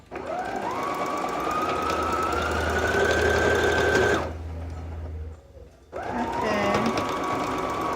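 A sewing machine stitching guipure lace trim onto a towel runs in a fast, steady whir, pauses for about a second and a half while the presser foot is lifted, then starts stitching again close up.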